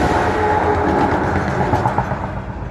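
A train rumbles past continuously in South Africa, a steady loud roar of rolling wagons and rail noise that slowly fades toward the end, with no one speaking.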